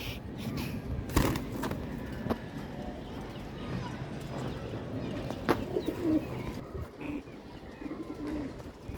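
Pigeons in a rooftop loft of a home, including fancy working breeds, coo steadily at close range, with scattered wing flutters and sharp clicks from the birds moving about.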